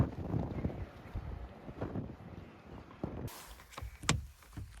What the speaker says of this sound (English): Gosh, it's windy.